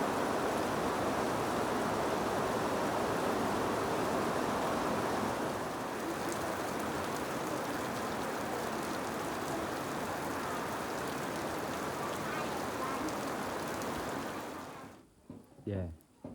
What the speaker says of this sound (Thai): บรรยากาศอยู่หน้าบ้านฝนตก